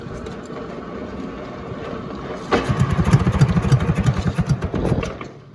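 An International B414 tractor engine, cold and previously locked up, cranks over with a steady, laboring rhythmic chug that starts abruptly partway in, loud and close, then slows and fades without firing.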